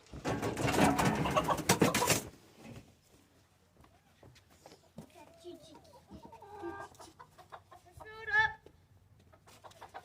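Chickens cluck and murmur softly inside a chicken tractor, with scattered short calls and one louder squawk, heard after a burst of rustling and splashing, while people talk nearby.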